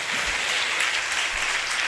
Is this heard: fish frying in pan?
no